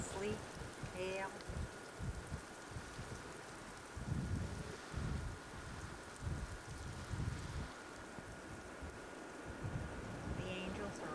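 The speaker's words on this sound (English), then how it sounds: "Getting pelted again with wind, sleet, hail." Wind and sleet with hail pelting down in an outdoor storm, a steady rushing, gusty roar with scattered patter and mic buffeting lasting throughout, with faint voices under it.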